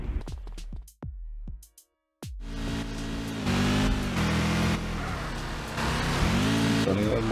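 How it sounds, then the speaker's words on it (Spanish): After a few sharp clicks and a moment of silence, a Hyundai Sonata's engine starts and runs loudly close by, a steady rumbling drone that swells slightly in places. "El sonido del motor suena durísimo y no me deja escuchar."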